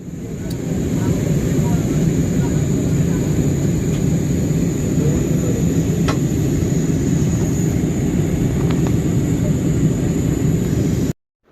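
Steady, loud cabin roar of an airplane in flight on a trip to Malaysia, heard from inside as a constant broadband rush that cuts off abruptly at the end.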